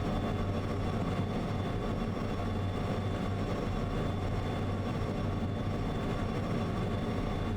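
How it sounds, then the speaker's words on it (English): Locomotive in the train game Derail Valley accelerating, a steady heavy low-frequency engine drone with a constant mechanical hum that stays loud and even, no talking. "Right, the locomotive is speeding up."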